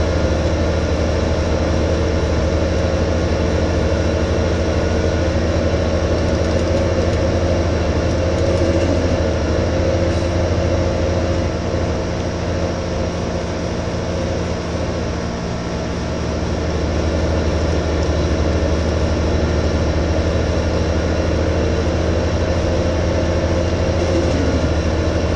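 A farm vehicle with a manual gearbox in the video game Farming Simulator 2015 drones steadily, a loud, low, constant engine hum that barely changes for the whole stretch.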